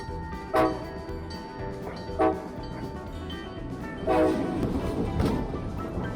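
An Arkansas Missouri train rumbles past, with three short blasts of its horn sounding over the steady rolling noise of the cars.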